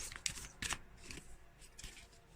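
Light oracle cards being shuffled by hand: a few quick riffling bursts of card noise close up, with soft rustling between them and no talking.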